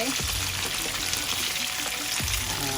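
Prawns fry in a hot pan, a steady loud sizzle with crackling and a few spoon scrapes or turns.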